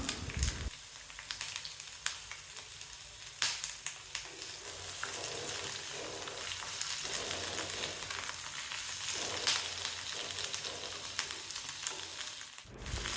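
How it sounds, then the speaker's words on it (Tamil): Capsicum pieces sauté in hot oil in a pan, a steady sizzle broken by a few scraping stirs, heard alone without talk. "அதையும் இப்போ எண்ணெயில் சேர்த்து வதக்கலாம்"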